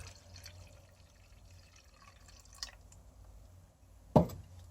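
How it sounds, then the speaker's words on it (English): Water poured into a container of tomato seeds and pulp for seed saving makes a quiet trickle with faint drips, then a short, louder splash near the end against a near-silent background. "add your water."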